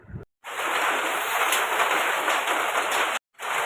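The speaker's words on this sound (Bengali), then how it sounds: "ফাইনালি বৃষ্টি" Steady rain falls outside a window on a dark morning after a long hot spell, a dense close hiss that cuts out briefly twice.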